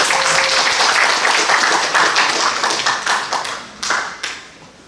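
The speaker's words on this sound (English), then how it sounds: "So let's welcome Professor Liu with a warm applause." An audience at a sports physiology and fitness academic conference applauds to welcome a professor for a keynote talk, with loud steady clapping that thins into scattered claps near the end.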